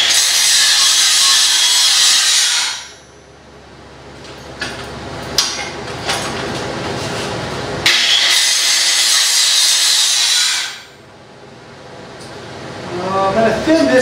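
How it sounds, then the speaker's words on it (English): An angle grinder thins stick-welded tack welds on a hand-beveled pipe joint, two long loud bright grinding passes separated by quieter scraping and knocking. "now I can go ahead and thin my tacks out."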